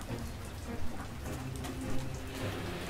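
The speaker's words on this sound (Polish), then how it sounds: "Pada deszcz." Steady rain falls in Paris near an old bridge, a dense even hiss of drops on the street and surfaces filling the whole stretch with no voices.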